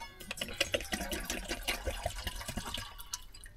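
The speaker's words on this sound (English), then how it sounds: "Put the water in here." Water trickles and splashes quietly into a pot set on a kerosene stove, a faint, uneven run of small drips and gurgles that tapers off near the end.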